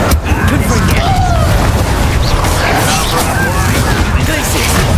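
An Incendio fire spell in Hogwarts Legacy bursts into a loud, continuous roaring blast during a duel, with crackling impacts layered through dense game sound.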